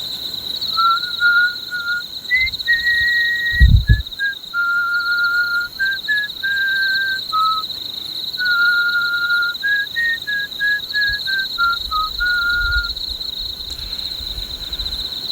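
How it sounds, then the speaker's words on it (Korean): Someone whistles the slow, clear melody of a Korean song, note after note, over a steady high electronic tone, with a couple of soft thumps partway through. "휘파람 잠깐 한번 불어볼까요?"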